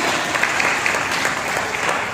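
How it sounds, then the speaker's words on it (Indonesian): A crowd at an anniversary gathering applauds with brisk, dense clapping that holds steady and fairly loud for the whole moment, alone without speech. "Tepuk tangan."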